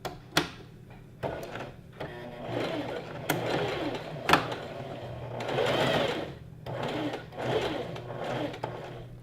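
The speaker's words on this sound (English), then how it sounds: "So you can actually sew right over the top of your pins" A sewing machine stitches pleated skirt fabric over pins, running slowly in several short bursts with clicks between them, close and clear.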